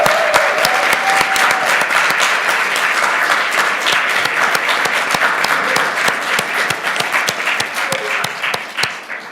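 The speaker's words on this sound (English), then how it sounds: "Can we give her one more round of applause?" A congregation at a Unitarian Universalist worship service breaks into sustained applause, dense steady clapping that carries on for the full span with only a faint voice briefly audible.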